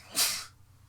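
A single quick, breathy sneeze, close and fairly loud, bursting out alone during a quiet moment in a podcast recording.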